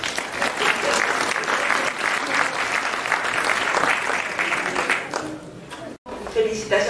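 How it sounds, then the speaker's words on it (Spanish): Sustained applause from an audience at a lecture event, dense and even clapping that carries on for several seconds before a brief pause, then resumes. "vamos a recibirla con un voto de aplauso."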